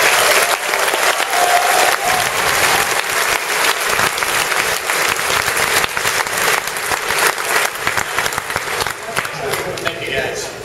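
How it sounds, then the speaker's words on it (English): Loud, sustained audience applause from a crowd at PAX Prime 2011 during a Star Wars: The Old Republic stage event, dense clapping filling the room continuously with cheers mixed in. "Give a loud round of applause."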